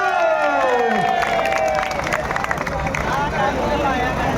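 A crowd at a rural Punjabi tractor-pulling contest claps and cheers in a dense, continuous roar, with a loud voice rising and falling over the noise.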